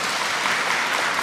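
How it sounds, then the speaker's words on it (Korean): A congregation claps briefly during a Sunday Eucharist service in a church, a dense burst of many hands applauding evenly at moderate loudness. "설교 중에는 박수 치시는 게 아닌데"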